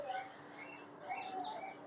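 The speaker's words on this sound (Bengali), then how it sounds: "দেখুন পাখি চিল্লামিল্লি করছে" Faint bird calls and chirps sound at a distance over soft background noise at Alipore Zoo, Kolkata, in winter, several birds calling at once.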